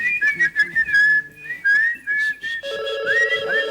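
Someone whistles a lively melody in short phrases with bends and trills, close by, with faint background sounds and no speech.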